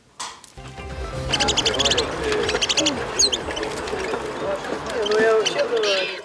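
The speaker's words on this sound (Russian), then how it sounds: "Здесь поют, кричат, дерутся и просто спят в клетках птицы." Caged birds fill a poultry and pigeon exhibition hall, domestic and ornamental, large and small, including homing pigeons. Chirps, coos and cries overlap densely against a busy indoor hubbub, loud and continuous throughout.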